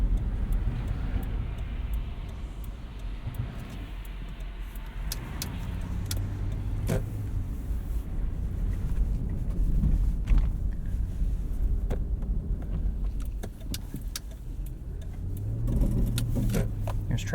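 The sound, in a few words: Lexus GX 460 driving through slush on snow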